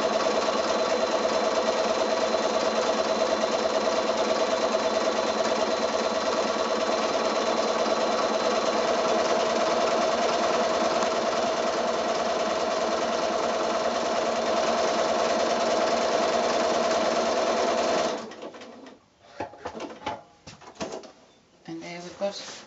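Sewing machine stitching a buttonhole, a loud, steady, fast mechanical whirr that runs for most of the clip, then stops abruptly and gives way to a few soft clicks and handling sounds.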